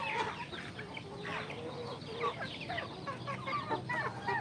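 Several chickens cluck and chatter continuously nearby, a busy overlapping flock sound with no one speaking.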